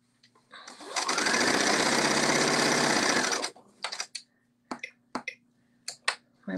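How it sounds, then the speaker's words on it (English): A domestic sewing machine stitches a kimono seam, running in one steady, loud continuous burst for over two seconds, then stopping; a few sharp clicks and short mechanical taps follow. "We're sewing this seam."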